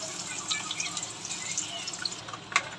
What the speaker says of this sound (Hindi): और ये प्याज हल्का फ्राई हो गया है।